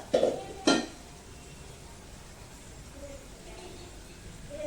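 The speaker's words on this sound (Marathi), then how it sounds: "ही चटणी मी एका छान भांड्यामध्ये काढून घेते आता" Sesame and garlic chutney scooped out of a hot pan into a bowl: two sharp metallic clinks of a spoon against the cookware at the start, then quiet room tone.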